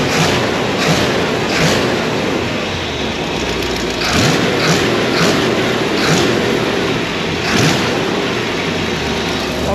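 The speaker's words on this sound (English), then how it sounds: "Got an exhaust leak, that's what you're hearing." An engine with an exhaust leak runs steadily at elevated RPM with a loud, continuous rough drone and recurring ticking puffs from the leak, close up.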